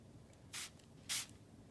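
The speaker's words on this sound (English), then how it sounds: "Looks like this edge over here needs a little bit more spray" Water sprays from a spray bottle onto Brusho watercolor powder in two short, hissing bursts, close and quiet, with near silence between them.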